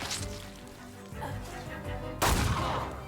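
Gunfire in The Thaumaturge, set against game ambience, ending in one loud, sharp shot with a crackling tail late in the clip, after a few fainter knocks.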